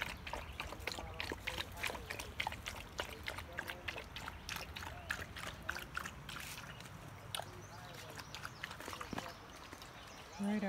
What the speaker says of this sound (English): Right out here is where the spring is flowing into this river.